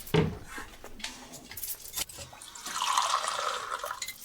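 Water runs and splashes into a glass, starting with a clink and a few small knocks of glassware before a steady pour builds and fills for a couple of seconds, near and moderately loud with no talking.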